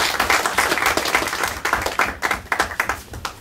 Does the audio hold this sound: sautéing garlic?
no